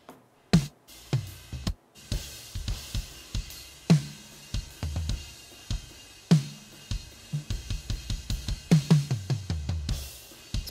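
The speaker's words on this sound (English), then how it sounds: "here is the sound of my drums." Acoustic drum kit played alone and mixed through a Behringer Wing console: close, punchy kick and snare hits with cymbal wash in a steady groove, fills and accents scattered across the bars.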